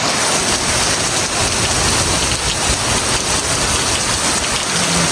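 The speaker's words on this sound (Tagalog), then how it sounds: "Pero grabe yung ulan, no?" Heavy rain pours steadily in Canada, a dense, continuous hiss of drops drumming on surfaces close by, loud and unbroken with no voices.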